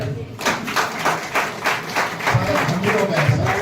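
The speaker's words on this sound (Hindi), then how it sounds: "ताली बजाएंगे भाई।" Guests at a Christian church wedding ceremony clap together in a steady, rhythmic round of applause that is close and lively. Voices can be heard under the clapping.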